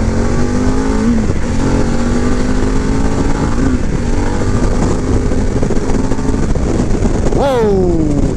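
A Panamerica motorcycle engine drones loudly and steadily, its pitch climbing through several rising sweeps as the bike accelerates, with one sharp upward rev near the end.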